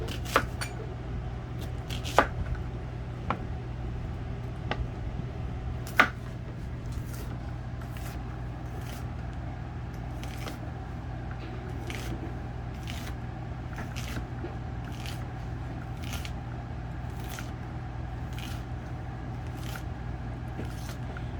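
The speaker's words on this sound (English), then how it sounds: "we're going to chop up this onion here" A knife chops half an onion on a cutting board in a home kitchen, with a slow, even run of crisp taps at close range over a low background hum.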